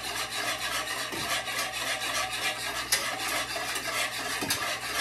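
A whisk stirs sugar into a soy sauce pickling liquid in a bowl, making a steady, close scraping and swishing that runs continuously without talk.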